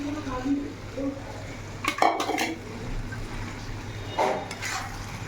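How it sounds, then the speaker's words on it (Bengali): Chicken being added to fried spices in a pan, with a couple of sharp clatters of utensils against the cookware and a soft sizzle underneath, while a person speaks nearby. "এবার আমি চিকেনটা দিয়ে দেব।"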